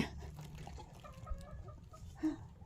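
A caged rooster and a young hen cluck softly, faint and somewhat distant, with a brief louder call near the end.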